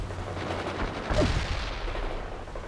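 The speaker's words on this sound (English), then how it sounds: "Artillery strike on our target." An artillery strike lands during battle in the real-time strategy game World in Conflict, a muffled low boom rising out of steady rumbling combat noise, with a single heavier impact near the middle.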